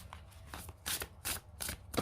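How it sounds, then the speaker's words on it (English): The Signs of the Times oracle card deck is shuffled by hand, giving crisp riffling bursts in a rhythmic series, close and fairly loud, with no speech over it. "So I'm going to give these cards a shuffle"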